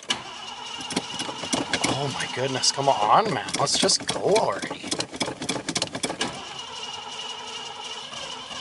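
A 1978 Marquis car cranks with a rhythmic starter chug, then sputters and catches into a rough, uneven idle, close up, while someone talks impatiently over it.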